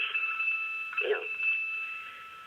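A cell phone rings with a steady electronic tone held throughout, briefly broken up by a short vocal sound in the middle.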